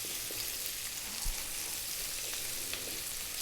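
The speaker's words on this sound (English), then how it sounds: "In goes the garlic and the ginger, about equal amounts, about a tablespoon each." Minced garlic and ginger, about a tablespoon each, fry in plenty of hot oil for a Chinese hoisin chicken dish, giving a steady, soft crackling sizzle with no talk.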